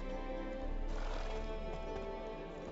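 A horse neighs in The Witcher 3, a single whinny rising out of a steady game soundscape with some hoof clopping, fairly close and loud.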